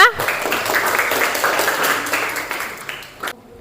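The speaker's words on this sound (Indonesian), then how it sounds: "Kasih tepuk tangan untuk temannya." A classroom of students applauds a classmate, a bright burst of clapping from a small group that carries on for about three seconds and then cuts off abruptly.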